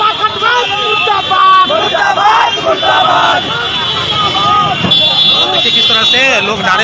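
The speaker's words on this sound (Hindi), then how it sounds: "वो नारेबाजी कर रहे हैं" A large crowd at a political rally in Bihar chants slogans. The loud, continuous massed voices rise and fall in rhythm, with a steady buzzing, horn-like tone running underneath.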